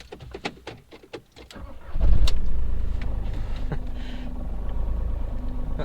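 Audi A2 1.4 TDI diesel cranking with a few rapid clicks, then firing into a loud, close, steady idle rumble that settles and continues.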